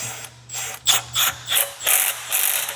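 A ratchet wrench tightens long bolts on a bearing press for a GM truck, giving a close run of loud clicking strokes in an uneven rhythm with no talk.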